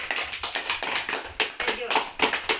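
A classroom of fourth-grade children clapping, uneven bursts of small hands in quick irregular rhythm, fairly close and moderately loud, with some shuffling in between.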